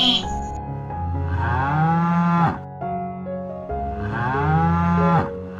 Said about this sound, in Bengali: কি সুন্দর গরু